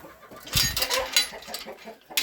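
Turkeys clucking in their pen during quarantine, a few short close clucks and soft calls in quick irregular bursts, fairly quiet with no talk.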